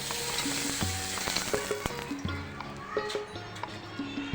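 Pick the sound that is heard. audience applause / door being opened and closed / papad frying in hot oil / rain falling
papad frying in hot oil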